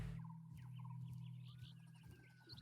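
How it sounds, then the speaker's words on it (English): Several birds call and chirp against a constant low hum in the video game Halo Infinite, with sharp whistled notes and squawks scattered throughout; fairly quiet overall. "Have some birds."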